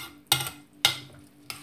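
Seffa vermicelli being stirred with milk in a bowl: three separate scraping, swishing strokes, close and fairly crisp, with short pauses between them and no talking.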